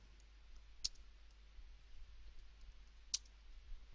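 Computer mouse clicking during work in Excel 2007: two sharp, faint single clicks about two seconds apart over a quiet low hum.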